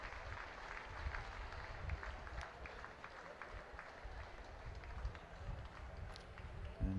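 Crowd applause drifts across a stadium during a women's rugby league match between London Broncos and Salford as an injured player is stretchered off; the sound is faint, distant and diffuse, a steady wash of clapping with no voices on top.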